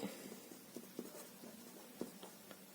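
Quiet, close strokes of writing come in short scratchy bursts and taps at an uneven pace, as working is jotted down during a maths lesson on mensuration, with no talk over it.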